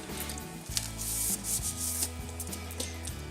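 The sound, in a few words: tempered glass screen protector taken out of its case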